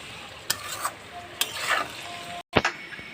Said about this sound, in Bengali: এর মধ্যে দেবো 3টা ডিম ভেঙে দিয়ে দেবো ভাজার মধ্যে